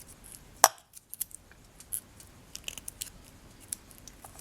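Scissors snip off excess polymer clay while a bead cap is being shaped, giving one loud close cut followed by a string of lighter, sharp clicks and snips, with no talking.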